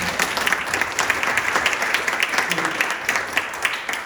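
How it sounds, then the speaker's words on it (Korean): Attendees at a sports media academic conference break into sustained, fairly loud applause that fills the room evenly throughout. "여러분들 박수 한번 쳐주시면 힘이 될 것 같습니다."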